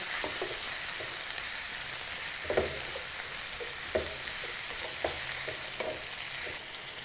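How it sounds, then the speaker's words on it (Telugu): Cauliflower, potato and tomato pieces sizzle steadily in hot oil while being stirred, with a continuous loud frying hiss and occasional spoon scrapes against the pan, no voices. "కాలీఫ్లవర్తో పాటు ఆలు టమాటా ముక్కలు కూడా వేసుకోవాలి వేసుకొని ఆయిల్లో బాగా కలిసేలాగా కలుపుకోవాలి"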